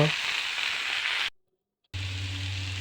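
Vegetables with garlic and ginger paste fry in a pan for a potato and papaya dish, a close, steady hiss of sizzling oil broken by a brief silent cut before the frying resumes.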